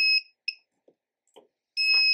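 Short, piercing electronic beeps from a small active buzzer on an Elegoo Uno R3 board, sounding in brief pulses with gaps between, a couple of faint clicks in the quiet stretches.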